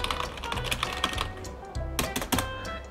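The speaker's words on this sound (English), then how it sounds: "Sit down at this desk and look, there's a keyboard." Rapid, irregular clacking of keys on a computer keyboard at a desk inside an indoor play area, close and clear with no talking.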